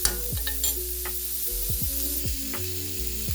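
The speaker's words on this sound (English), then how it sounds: "while the sausage is cooking, give this a good another mix." Sausage frying in a pan alongside peppers, onions and mushrooms for gumbo, giving a constant close sizzle with repeated scraping stir strokes and a low tonal hum beneath, no speech.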